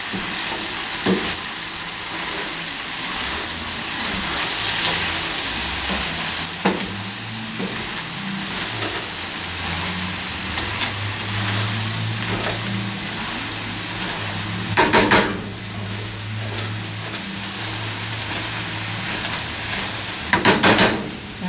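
Onions and leeks sizzle steadily in a hot pan while a utensil stirs and scrapes through them, with brief louder clatters of the spoon against the pan near the end and no talking.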